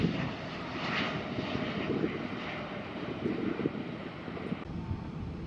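Steady roar of a Boeing 787 airliner's engines taking off at Santiago de Chile airport, broad and continuous, with some wind buffeting the microphone and no talking.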